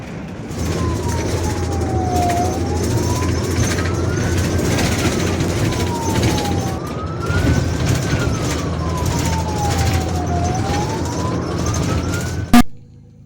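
An ambulance siren wails in slow rising and falling sweeps, loud and close amid steady road traffic rumble, repeating about three times before ending with a sharp click.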